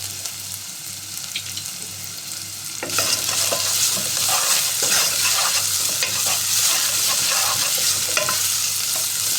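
Onions frying in a pan and stirred back and forth, starting as a soft sizzle and jumping to a louder, steady crackling sizzle partway through, with scraping stirs on top.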